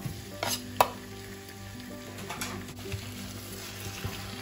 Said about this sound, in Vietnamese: Sau đó bỏ vào trong cái chảo mà có xào hành tây lúc nãy đây.